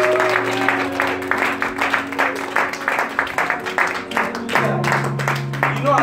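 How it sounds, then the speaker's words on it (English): A congregation claps along at a live prophetic church service, with steady rhythmic hand claps running throughout under sustained music and voices. "Are you clapping for Jesus?"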